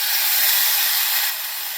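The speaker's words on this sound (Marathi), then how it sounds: "हे वाटण घातल्यानंतर यामध्ये थोडंसं पाणी घालायचं बघा" Water poured onto a ground spice paste frying in a hot pan gives a loud, steady steam hiss that holds briefly and then eases slightly.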